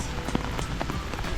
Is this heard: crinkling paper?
no